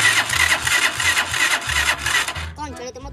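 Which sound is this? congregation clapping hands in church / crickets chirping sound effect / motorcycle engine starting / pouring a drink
motorcycle engine starting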